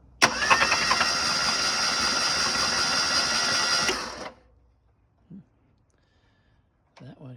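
A 1983 Ford EXP that has sat off the road for almost 30 years has its engine cranked over with oil still in the cylinders. The starter whirs loud and steady for about four seconds and then cuts off, followed by quiet and a few faint noises.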